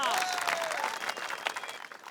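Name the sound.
applause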